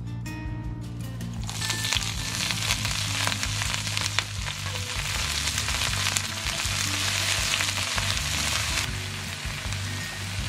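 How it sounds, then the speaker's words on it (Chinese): Garlic chive sprouts drop into hot oil in a wok and crackle loudly, a dense, rain-like sizzle that holds steady throughout with occasional pops. "热锅热油，"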